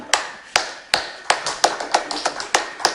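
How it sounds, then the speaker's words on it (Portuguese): Sparse, separate hand claps from a small audience closing out a public participation session on basic education quality, about ten sharp claps in three seconds with no sustained applause. "Palmas para nós aí que ficamos até o final e até a próxima."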